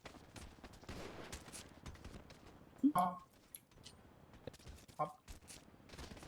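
Gunfire in the video game GTA V, a few sharp bursts of shots that stand out over a quiet, busy background while players chatter excitedly.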